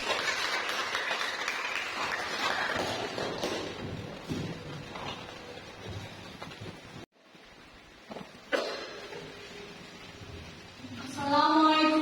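An audience at an English-language student competition claps after a finalist's presentation, a soft, fairly distant spatter of applause that fades out before a voice begins speaking.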